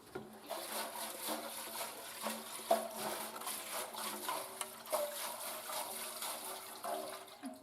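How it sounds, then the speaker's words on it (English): Alcohol sloshing around inside a Honda SL125 motorcycle fuel tank during a final rinse, a steady watery swishing and trickling throughout, moderately quiet with no talk. "I just put in the second 2 and we're going to do a final rinse."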